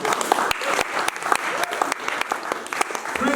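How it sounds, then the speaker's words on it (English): A church congregation applauds, dense clapping that runs steadily throughout, with voices calling out over it. "You can clap for the Lord."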